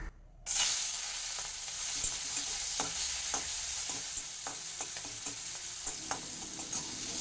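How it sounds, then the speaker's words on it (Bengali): Salted, turmeric-coated prawns fry in hot mustard oil in a wok, starting abruptly with a loud burst of sizzle that settles into a steady close crackle, punctuated by occasional stirring clicks. "এই চিংড়ি মাছটাকে হালকা করে একটু সাঁতলে নেব"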